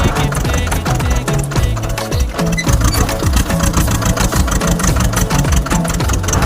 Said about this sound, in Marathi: थोडी मग ट्रॅक्टरची फायरिंग ऐकाय